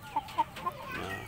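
Indio Gigante chickens clucking while feeding on corn and bran, three short distinct clucks close by, followed by softer murmuring fowl sounds.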